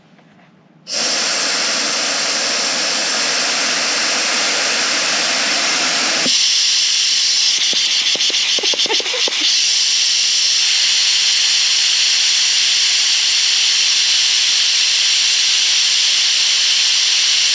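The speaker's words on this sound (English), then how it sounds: "Now let's fire up the air pressure and see what we got on that torque converter." Compressed air hisses loudly and continuously through a Ford 4R100 transmission solenoid pack from an F250 during a pressure test, starting abruptly and shifting in tone partway with brief sputtering, no talking.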